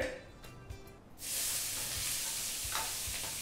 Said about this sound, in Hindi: एक प्याज 10 सेकेंड तक स्टर फ्राई